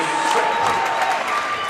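Crowd applause and cheering at a basketball game as the home crowd gives the Bearcat team a standing ovation in the closing seconds, a dense, continuous wash of clapping lasting throughout.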